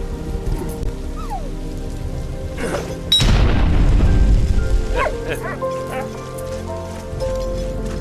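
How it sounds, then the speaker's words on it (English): A shell detonates in the World War I game Valiant Hearts with one loud, close boom partway through that decays into a rumbling tail, among quieter game ambience before and after. "Anything coming into contact with those shells will basically make them explode."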